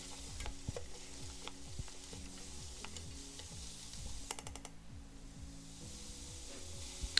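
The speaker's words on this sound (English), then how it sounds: "using our saute feature on the Instant Pot, and we'll add our chopped vegetables, celery, carrots, and onions" Chopped celery, carrots and onions sautéing in oil in an Instant Pot, giving a soft steady sizzle with quiet stirring scrapes, heard close but low in level.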